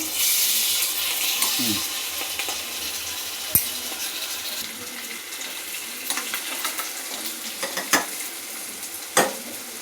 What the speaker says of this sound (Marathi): आता आपण परतून घेऊया एका बाजून शिजली